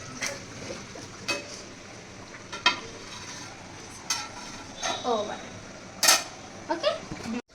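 Food being stirred in a cooking pan at home, with scattered scrapes and clinks of a utensil against metal over a low sizzle, fairly close and moderate in level.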